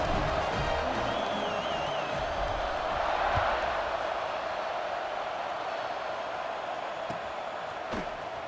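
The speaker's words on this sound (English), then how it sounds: "You think this crowd's going to get loud when their defense comes on the field?" A large stadium crowd at an LSU college football game roars in a broad continuous wash of noise from the stands, with a faint whistle, scattered cheers and a couple of sharp knocks, and no clear speech over it.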